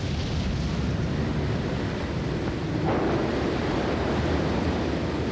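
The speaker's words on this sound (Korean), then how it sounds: "앞 간판을 때리는 파도 소리가 들리는군요" Waves pound the deck of a ship at sea in bad weather, a continuous loud roar of surf and rushing water with wind, swelling slightly partway through, heard alone and close.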